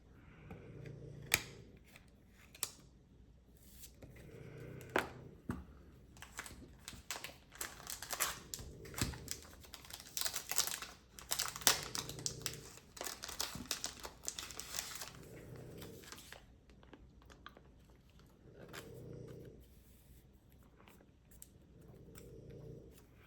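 A Pokemon card is slid into a crinkly plastic sleeve up close, giving soft rustling, crinkling and sliding bursts that repeat in a loose rhythm against a quiet background.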